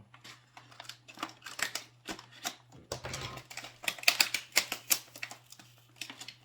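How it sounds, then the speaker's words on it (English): Scissors snip and clip at the taped-down plastic lids of Dollar Tree ornaments in a quick, uneven series of close, crisp cuts and crinkles over a faint steady hum. "I'm going to have to cut them open here, because they have the lid taped down very well."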